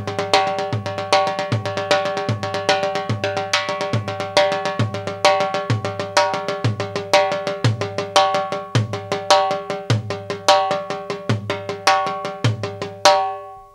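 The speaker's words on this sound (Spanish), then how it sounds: "Ahora vamos a enseñar el otro remate combinándolo con el otro tom." Timbales fill played solo with tom and bass drum, sharp metallic strikes in a steady repeating pattern with regular low bass-drum thumps underneath, loud and close, ending in a final ringing hit.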